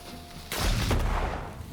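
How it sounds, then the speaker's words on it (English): A thrown bomb goes off in the video game Wartales: one sudden, loud, broadband blast that rolls into a rumbling tail lasting about a second, with no voices over it. "Throw a bomb."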